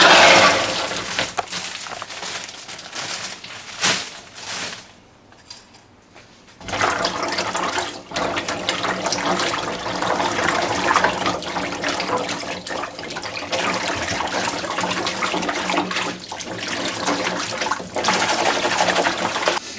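Running tap water pours steadily over freshly picked figs being rinsed in a pan, a continuous close splashing rush that briefly stops and then resumes.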